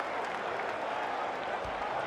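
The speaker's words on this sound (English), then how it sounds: "And you can hear the crowd." Dense crowd noise filling an arena at an Evo fighting game tournament, a continuous roar of cheering and clapping, loud and sustained, with a voice faintly mixed in.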